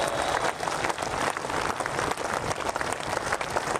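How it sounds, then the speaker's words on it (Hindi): A rally crowd claps loudly and steadily to welcome candidate Meena Kanwar, with dense, continuous applause filling the whole stretch. "जोरदार तालियों से स्वागत और अभिनंदन।"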